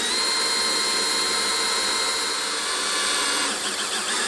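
Power drill running steadily with a smaller bit, boring pilot holes during a truck air bag install on a 2024 Ford F-series, a continuous loud whine that shifts slightly near the end.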